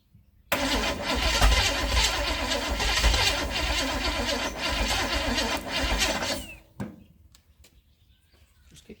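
A Holden 253 V8 cranks over loudly with a rapid, rhythmic starter churn for about six seconds before cutting off abruptly, leaving faint clicks and quiet background afterward.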